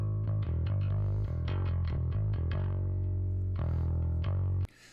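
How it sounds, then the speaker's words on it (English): A distorted bass guitar plays a run of plucked notes through a bass amp miked with a Beta 52, thick and gritty, then stops abruptly at the end. "That's a bass amp, clearly. It's already got a little bit of distortion on it."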